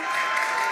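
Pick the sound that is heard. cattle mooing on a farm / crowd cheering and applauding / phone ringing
crowd cheering and applauding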